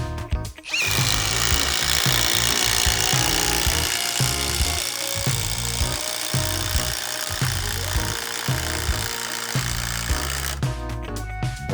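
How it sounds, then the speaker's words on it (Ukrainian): Dnipro-M DTD-201BC ULTRA cordless impact driver hammering a structural screw into timber with no pilot hole, a loud continuous rattling impact burst lasting about ten seconds, with no talking. "Беремо конструкційний шрубчик і закручуємо без будь-якого попереднього засверлювання."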